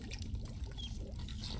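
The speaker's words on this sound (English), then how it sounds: "The goulash is bubbling in the cauldron." Goulash bubbles in a cauldron in the video game The Dwarves, a soft, steady burble and trickle of thick liquid heard faintly and continuously, with no voices.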